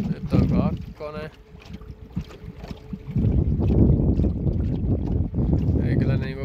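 A cheap 12V or 24V electric outboard motor drives a boat in first gear, its faint steady whine running under wind buffeting and water noise, with a louder rush of wind and water in the second half.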